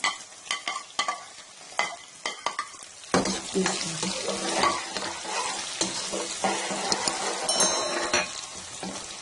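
Onions drop into hot oil with a burst of sizzling that keeps crackling steadily, after a few scraping stirs against the pan, while cooking beetroot-leaf saag.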